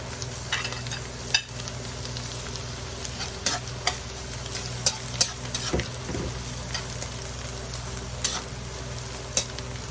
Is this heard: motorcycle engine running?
no